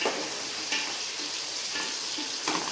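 Tomato and green chilli frying in a pan for fish curry, a loud continuous sizzle with a few soft stirring scrapes.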